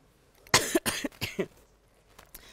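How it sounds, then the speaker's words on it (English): Several short, sharp coughs in a quick irregular burst, close and clear, followed by quiet. "apart from my cough"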